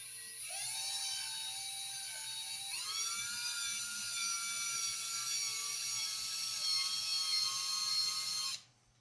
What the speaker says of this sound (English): Drill is on low,